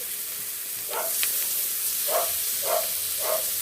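A bay leaf hits hot oil left over from frying fish and gives a constant close hiss, with four brief louder sizzling swells as it is stirred or moved around the pan.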